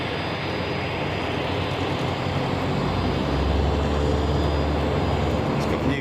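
Propeller aircraft engine roar fills the air at Boeing Field, a steady broad rumble that swells slightly toward the end, with no clear breaks.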